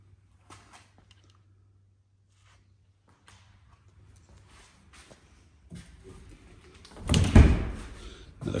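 Doors opening and closing inside a house in Prescott, Arizona, with sparse soft clicks and shuffles, then a louder thump and rattle near the end, heard close in an otherwise quiet room.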